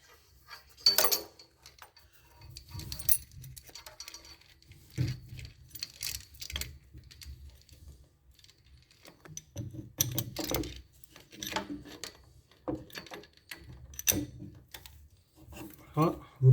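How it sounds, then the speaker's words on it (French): A chain wrench tightening a nut on a galvanized steel pipe fitting during a Gebo joint install, heard as irregular metallic clicks, ratcheting scrapes and low knocks in uneven bursts, up close. "vous prenez cet écrou là avec la l'aide de clé à chaîne et vous la serrez"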